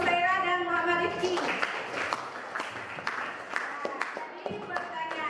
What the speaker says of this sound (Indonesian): Tepuk tangan dulu untuk Musaira dan Muhammad Rifki.